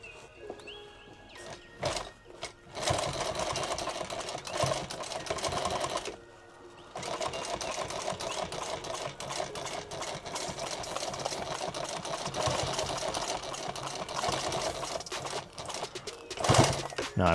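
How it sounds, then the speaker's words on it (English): A sewing machine stitches through about fourteen layers of material plus webbing for a tactical rig, a fast rapid chatter running in long bursts with a brief pause, fairly close and moderately loud, with some talk. "right here I'm sewing through 4, 8, 12, 13, 14 layers of material plus this layer of webbing right here"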